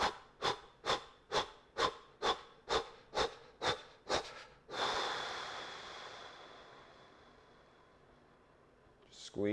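Deep, rhythmic breathing during a fast exercise sequence: about ten quick, evenly spaced sharp breaths, then one long, softening exhale that slowly fades, with a faint rustle at the very end.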